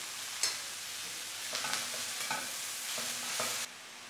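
Zucchini stewing in a pan gives off a continuous soft sizzle, with a few scraping stirs and clinks of the utensil scattered across it before the sound drops away near the end.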